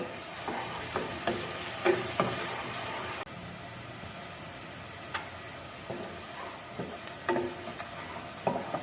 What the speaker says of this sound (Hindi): और अब मैं ये मीडियम साइज की 1 अदद प्याज इसमें डालने जा रहे हैं। इसे लाइट ब्राउन होने तक पकाएंगे।